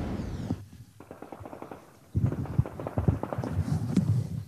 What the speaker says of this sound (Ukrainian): Працюють міномети, гранатомети та стрілецька зброя.